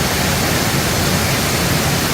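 A waterfall in Khao Yai National Park, Thailand, heard from a small cave beneath it, gives a dense, even, close rushing roar that continues without a break.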